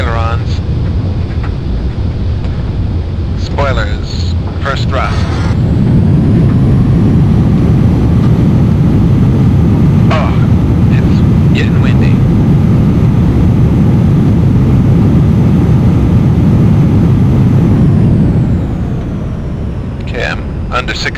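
Simulated airliner touching down in the Flight Unlimited III game, its engine roar swelling loudly as the thrust reversers engage, holding steady for about twelve seconds, then dropping away; a few brief clicks sound over the rumble.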